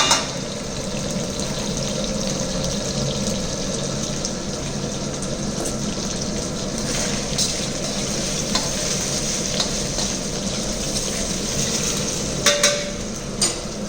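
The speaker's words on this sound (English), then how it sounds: "Just we fry, shallow fry," Steady, dense sizzle of food shallow frying in hot oil for Chinese cooking, close and continuous throughout, with faint clinks of utensils and no talking.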